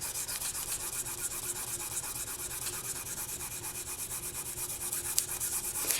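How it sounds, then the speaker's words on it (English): Polymer clay earring pieces burnished smooth on a tile, a faint close rhythmic rubbing and scraping repeated in quick strokes, alone without talk. "And the burnishing is going to be smoothing out seams, but it will also be attaching it to the back nicely"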